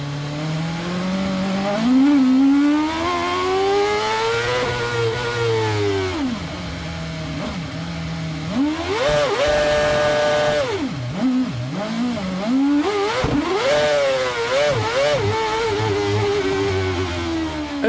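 Formula 1 cars racing at the 2012 Brazilian Grand Prix, high-pitched engines screaming past continuously with rising and falling pitch as they accelerate, brake and downshift, loud and dominating with overlapping cars passing.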